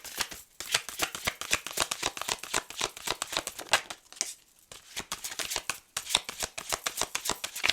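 Message mantra oracle cards shuffled by hand, a steady run of quick, close riffling flicks that breaks off briefly a few times before carrying on.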